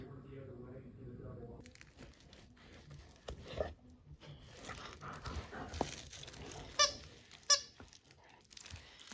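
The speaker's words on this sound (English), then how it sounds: "Can you get the squeaker?" A squeaky toy named Bear Bear is squeezed by a dog, giving sharp, short squeaks near the end amid crinkling and pattering movement, with people talking nearby.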